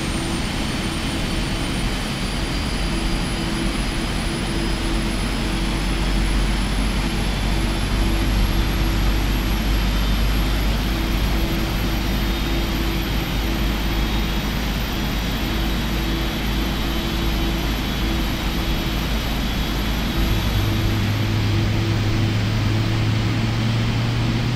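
Boeing 777-300ER jet engine spooling up during start in Microsoft Flight Simulator 2020, a loud, steady broadband roar with a slowly rising high whine and low drone holding throughout, without speech.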